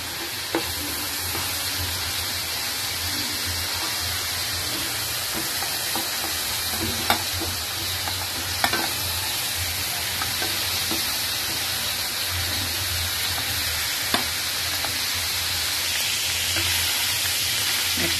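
Small chicken pieces fry for fried rice in a hot pan with a loud, continuous sizzle. Occasional scrapes and light knocks of stirring rise above the steady hiss, with no voices.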